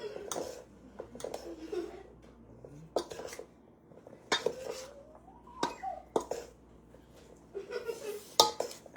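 A spoon stirs the liquid mixture for a tuna and zucchini casserole in a bowl, making irregular close clinks and scrapes in short bursts separated by quieter gaps.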